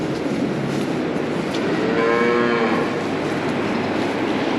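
Cattle on a farm letting out a long, loud, close moo, with a steady low rumble of background noise around it.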